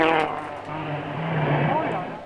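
A rally car at the Citroën Rally roars past on a road bend, its engine note loud and close, sweeping from a high whine to a lower drone over about two seconds.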